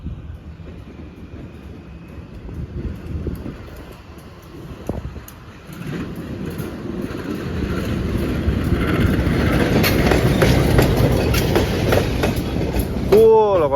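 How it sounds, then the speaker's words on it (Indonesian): Feeder train pulling away on an Indonesian railway line near Bandung, a low rumbling rolling noise that grows steadily louder and closer, with wind buffeting the microphone and a brief high squeal at the end. "Momennya bersamaan juga diberangkatkan kereta api feeder."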